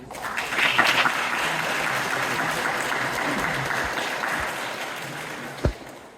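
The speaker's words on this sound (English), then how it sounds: "So, round of applause for Raven." Poetry festival audience applauding a poet at a poet laureate ceremony, sustained even clapping throughout, ending with a single sharp thump.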